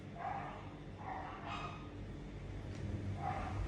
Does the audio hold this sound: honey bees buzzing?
no